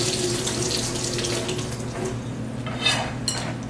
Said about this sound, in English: I'm going to get this towel wet with warm water